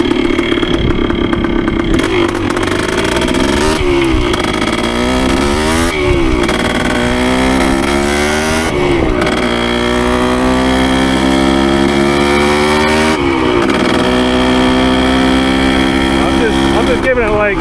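A 1973 Yamaha CT3 motorcycle, freshly rebuilt, ridden on very light throttle just off idle: a loud, close, buzzing two-stroke drone that rises and falls in pitch through gear changes, continuous for the whole stretch with wind noise.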